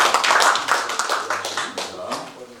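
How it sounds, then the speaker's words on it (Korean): A church congregation at a New York church council meeting applauds together, with dense, busy clapping that starts loud and gradually thins out, while voices murmur underneath. "우리 하나님 앞에 박수로 영광을 드리겠습니다."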